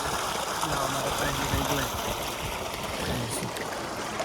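Cold water rushes steadily from a village well into a pool used for bathing, a dense, continuous wash of sound that is loud and close throughout, with voices faintly underneath.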